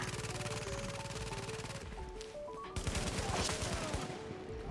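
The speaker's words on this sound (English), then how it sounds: "Let's see how much damage our little turret's doing." An automated turret in the shooter The Division fires rapid, steady bursts of shots, pausing briefly before another dense volley amid game effects.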